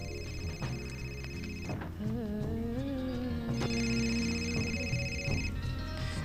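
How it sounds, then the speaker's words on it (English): An in-game telephone in Indigo Prophecy rings in repeated electronic trills over a low musical background, with steady bursts separated by short pauses. "first thing we have to do is answer the phone"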